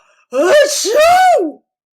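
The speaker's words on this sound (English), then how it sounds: "Achoo!" A voice acts out a sneeze, a drawn-out two-part "achoo" spoken loudly and close up.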